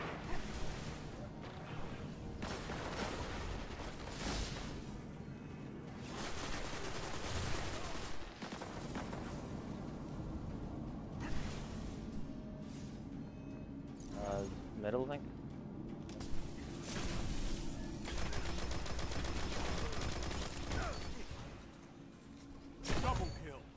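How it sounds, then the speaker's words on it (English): Stillpiercer, a Hunter-exclusive sniper rifle in the video game Destiny, fires repeated loud, sharp shots amid dense in-game explosions and gunfire, with a player talking throughout. "It's a Hunter exclusive sniper rifle."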